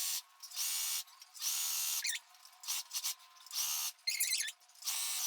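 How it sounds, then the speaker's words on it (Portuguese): A sewing machine stitches along a folded fabric edge in short, close mechanical bursts of whirring, separated by brief pauses. "E vou lá na máquina costurar."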